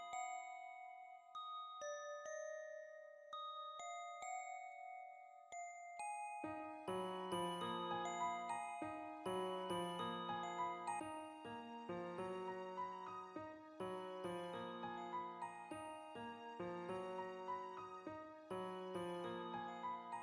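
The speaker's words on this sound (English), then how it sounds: "I'm probably gonna add a bell." A wavetable bell synth in FL Studio plays bright, ringing melodic notes, first alone as a sparse line, then joined by fuller layered chords in a steady repeating pattern for a West Coast beat.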